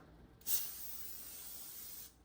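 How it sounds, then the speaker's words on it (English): A single sustained hiss of an aerosol cooking spray can coating trays, starting with a sharp burst and fading after about a second and a half. "we're gonna spray them with cooking spray also"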